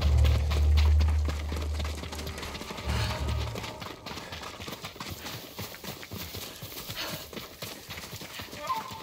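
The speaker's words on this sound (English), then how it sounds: "horses. They're coming for us." Horses gallop in Ghost of Tsushima, a dense, continuous drumming of hooves mixed with a low rumble at the start, loud and close, with no talk over it.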